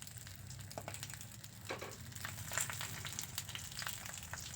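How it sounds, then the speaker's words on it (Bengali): Leaf-wrapped hilsa fish parcels go into hot oil one at a time, a faint, steady frying sizzle with occasional light crackles and soft utensil knocks. "একটা একটা পাতায় মোড়া মাছ তেলের মধ্যে দিয়ে দেব"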